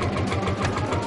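An old vintage tractor engine, a collector's very first tractor, idles steadily up close with a loud, even mechanical throb and no talking over it.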